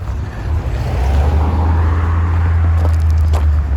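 An orange Pontiac Bonneville with a deliberately loud exhaust rolls past near a Santa Cruz harbor, a deep, heavy rumble that swells and holds steady.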